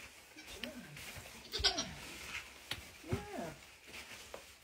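A newborn Nigerian Dwarf goat kid bleats during a first kidding birth, giving a few thin, wavering cries close by. Quiet handling noise and soft background sounds sit between the calls.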